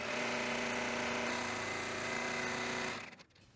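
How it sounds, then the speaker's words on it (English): An embroidery machine sewing a double stitch seam on an in-the-hoop gnome runs with a steady, loud mechanical whir that holds without pause for about three seconds before stopping. "The machine will do a double stitch."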